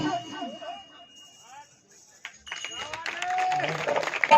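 Audience clapping at a bhajan devotional singing competition in Sadhpura, joining in mid-song as a mix of claps, singing and voices, after an opening stretch of solo vocals.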